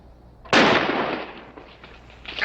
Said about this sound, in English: Who's shooting at him?